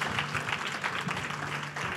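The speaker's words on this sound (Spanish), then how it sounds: "Ahora denle un fuerte aplauso al Señor." A church congregation at a Spanish-language revival service claps together, a soft, fairly distant wash of applause with a faint low hum beneath and no speech.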